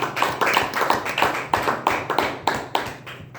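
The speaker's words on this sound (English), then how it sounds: "Round of applause to our Sergeant Times." A small group claps at a Toastmasters club meeting, a steady close rhythm of hand claps with no talking.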